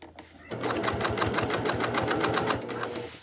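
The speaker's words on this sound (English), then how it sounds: "I just fold and sew." Sewing machine stitching the exterior of a cross body bag, a fast, steady mechanical chatter of needle strokes running continuously at close range for a few seconds.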